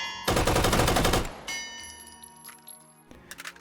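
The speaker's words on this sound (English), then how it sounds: "So we have the machine pistol variant." A machine pistol fires a fast, loud automatic burst in the VR shooter H3VR, followed by ringing metallic clinks and a couple of shorter shots.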